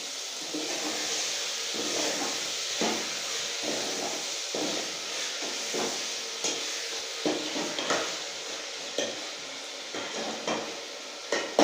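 Tomatoes sautéing in a pan with rock salt for lady's finger curry (vendakkai kuzhambu), a steady close sizzle punctuated by repeated knocks and scrapes of a utensil against the pan.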